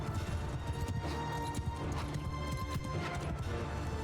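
Cavalry horses gallop across a battlefield in the video game Mount & Blade II: Bannerlord, a dense rumble of clip-clopping hooves with an occasional whinny and crash, loud and steady throughout with no talking.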